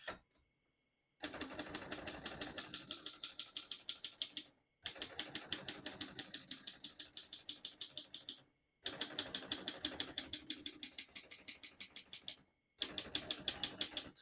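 Rapid mechanical keystrokes clack in fast bursts of several seconds each, separated by short pauses, close and crisp with no voices, typed on a 1946 Royal Quiet De Luxe portable typewriter.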